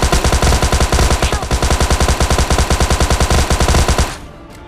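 Automatic gunfire from the PUBG Mobile Lite video game rattles in rapid, loud, continuous bursts for about four seconds, then cuts off abruptly.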